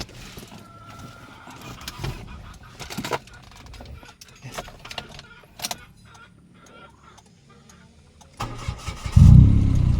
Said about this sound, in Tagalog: Subukan na natin kung i-start na.